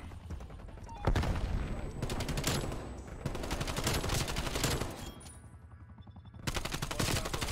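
Rapid automatic gunfire in Call of Duty: Cold War rattles in loud bursts, breaking off around the five-second mark and starting again near the end, with a player talking over it.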